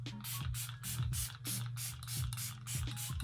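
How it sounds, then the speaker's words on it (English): Rapid, close bursts of a dewy fixing setting spray misted onto a face, roughly ten short hissing pumps in quick, even succession. "the setting spray is pretty dry"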